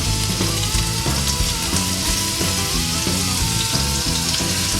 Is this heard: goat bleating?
no